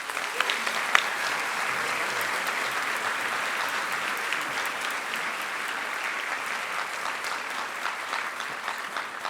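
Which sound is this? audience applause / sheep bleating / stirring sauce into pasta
audience applause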